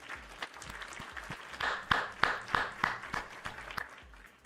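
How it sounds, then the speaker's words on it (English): Applause from a small group cheering a stream winner, a brisk run of claps swelling in the middle and tapering off, close and fairly loud with no talk over it. "So big round of applause for Frackberg on that."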